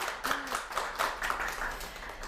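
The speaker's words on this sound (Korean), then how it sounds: "선생님께 다시 한번 큰 박수 부탁드립니다" A small group applauding after a lecture on traditional Korean hanbok at a televised talk show, with distinct, uneven claps in loose bursts rather than a dense roar, fairly close and fading slightly.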